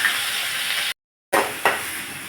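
Onion paste frying in hot oil tempered with panch phoron five-spice for a hilsa dish, a steady loud sizzle broken by a brief silent gap, then resuming with a sharp burst as more is added.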